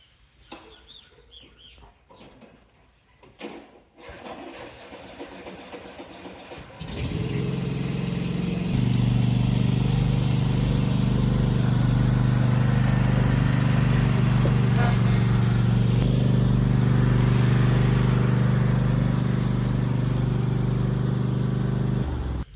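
A riding lawn mower tractor starts after some handling noises and then idles steadily with a loud, low, even engine hum that continues to the end, while chickens cluck faintly nearby.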